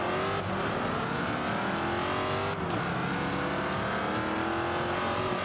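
Race car engine from the Forza Motorsport 5 video game, a steady high-pitched droning whine that holds loud and close throughout with a brief dip in pitch partway through.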